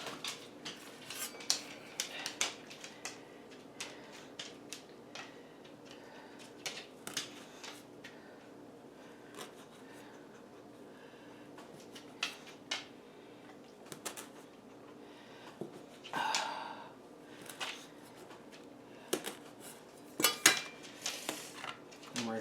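Sticky buns set one by one into a baking pan over melted butter and sugar, giving soft irregular clinks and taps of dough and metal pan, quiet and close, with scattered clatter and no talk.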